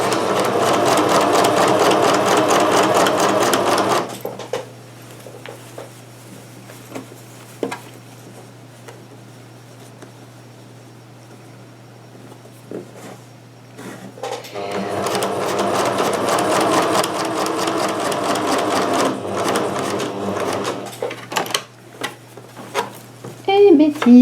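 Sewing machine stitching a zippered pouch: a fast, steady mechanical whirr with rapid needle ticking runs close and loud for a few seconds, falls quiet with small clicks and handling, then resumes for a long stitching run.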